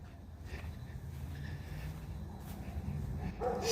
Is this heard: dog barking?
yes